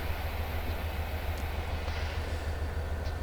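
B40 diesel locomotive cab in Train Simulator Classic on the Arizona Divide route: a steady, low engine rumble and drone that runs without a break, with no voices.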